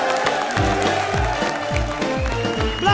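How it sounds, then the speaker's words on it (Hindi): A studio audience at a comedy cooking show breaks into loud, dense applause, a steady wash of clapping with a few cheers mixed in, under a thumping backing beat. "जोरदार तालियां ब्लास्टर शेफ में।"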